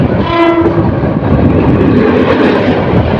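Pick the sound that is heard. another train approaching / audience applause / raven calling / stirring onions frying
another train approaching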